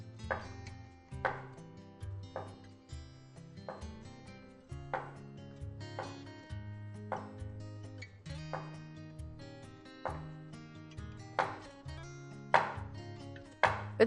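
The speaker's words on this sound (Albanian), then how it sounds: "dhe filloj bëj prerjen" A knife chops zucchini for a casserole with prosciutto and cheese, giving a steady series of crisp, evenly spaced strikes on a board, close up, with soft music playing underneath.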